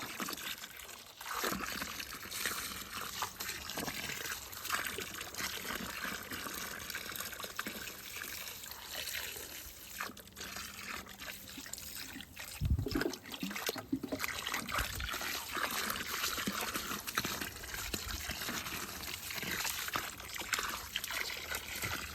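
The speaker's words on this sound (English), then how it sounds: "It was also time to top up the pond." Water trickles and splashes steadily into a garden pond as it is topped up, a continuous close liquid patter with a few brief louder splashes and no talking.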